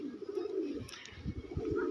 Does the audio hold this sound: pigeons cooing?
yes